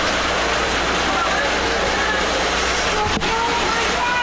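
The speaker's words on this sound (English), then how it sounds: "Play continues as the rain continues to fall." Rain falls steadily on an outdoor baseball field during an American Legion game, a dense, even hiss filling the whole moment, with faint voices beneath and a single sharp click near the end.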